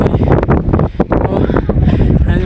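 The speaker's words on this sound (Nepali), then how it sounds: "हावा चलिरहेछ नि" Strong wind gusting over a hilltop near a monastery, loud buffeting roar against the microphone with rapid rumbling pulses throughout, no clear speech.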